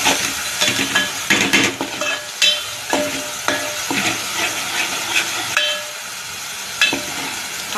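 A masala of green chili, garlic, tomato and turmeric sizzles and fries in oil, with repeated sharp scraping stirs of a utensil against the pan over a continuous close hiss.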